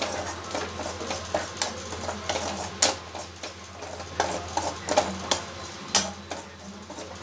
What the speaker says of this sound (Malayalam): വെറുതെ എണ്ണ ഒഴിക്കാണ്ട് വെറുതെ വറുത്തെടുത്താൽ മതി